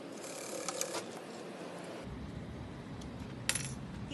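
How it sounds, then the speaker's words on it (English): A sewing machine runs a top stitch at a quarter-inch seam allowance with a soft, continuous mechanical whir and faint ticking. The motor note shifts partway through, and a couple of small clicks stand out. "I'll go back to my 1/4 inch seam allowance and I'll do a nice top stitch"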